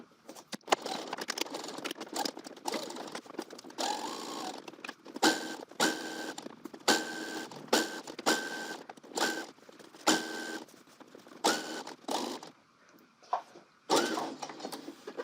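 A sewing machine stitches a colorblocked angle coat in short, close whirring bursts that start and stop repeatedly, with pauses between runs and no talking.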